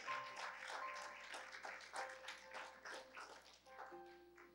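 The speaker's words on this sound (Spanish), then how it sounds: "Bríndale un aplauso al Señor." A burst of applause and clapping from a gathered church congregation, steady and fairly loud, tapering slightly toward the end.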